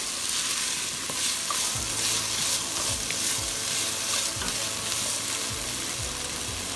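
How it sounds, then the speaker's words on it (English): Vegetables sauté in a pan for a quinoa dish, a loud, steady sizzle with scraping stirs recurring roughly every half second to a second, close and without talk. "Remember, the quinoa is already cooked, so you're just sauteing the veggies."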